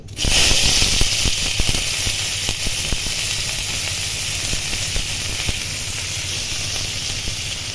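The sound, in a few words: onions frying in oil in a wok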